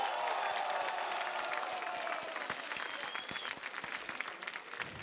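A concert audience in a St. Petersburg hall applauds steadily and loudly throughout, with a dense wash of clapping and some crowd noise under it.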